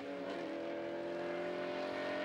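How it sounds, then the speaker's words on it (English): A BMW M3 V8 race car at Pukekohe circuit climbs through the gears onto the back straight, a loud, steady engine bellow with a strong, continuous tonal drone and no talking. "You can hear the bellowing V8 M3 working its way through the gears onto the back straight"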